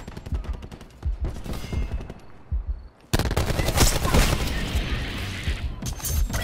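Rapid automatic gunfire in the Call of Duty Black Ops 4 video game, bursts of close, loud shots and crashing impacts that become a dense, sustained volley in the second half.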